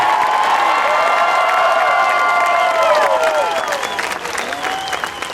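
A large outdoor rally crowd in central Ohio applauds and cheers loudly and continuously to welcome Ann Romney, a dense wall of clapping with whoops and shouts.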